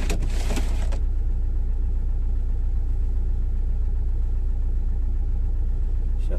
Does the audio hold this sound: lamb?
no